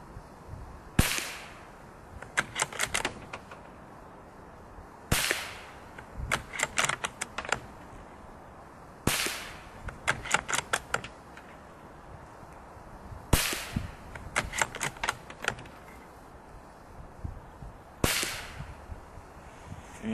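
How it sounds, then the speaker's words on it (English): CCI Quiet 22 rounds fired from a semi-auto rifle into dirt: sharp, soft cracks with quick mechanical clatter, a handful of separate shots spaced a few seconds apart, alone. "Now I'm just going to fire into some dirt"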